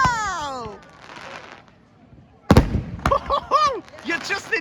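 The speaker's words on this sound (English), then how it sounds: "You're just in time for the fireworks, Thomas." Fireworks at a seaside carnival display burst with sharp bangs and crackles. Whistling rockets rise before the blasts, and excited voices and cheers mix with the explosions.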